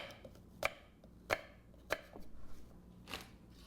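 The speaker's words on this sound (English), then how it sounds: "just slice them down one side and then go the other way" A knife rough-chops an apple on a cutting board. Three crisp, evenly spaced chops land close by, followed by softer cutting and one final chop.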